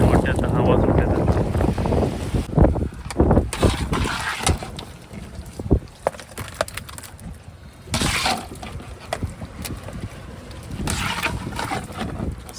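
Wind gusts across a fishing boat at sea, a loud rumbling buffet on the microphone with knocks and clatter from the boat.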